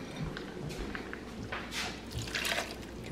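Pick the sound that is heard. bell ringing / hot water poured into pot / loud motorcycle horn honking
hot water poured into pot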